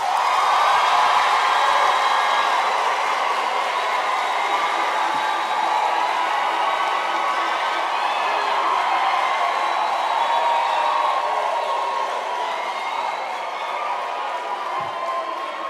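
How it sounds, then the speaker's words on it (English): A large audience at a university autumn graduation ceremony in South Africa gives the graduates sustained applause and cheering, a steady broad roar of clapping that runs throughout. "parents and relatives, can you please give our graduates a big round of applause"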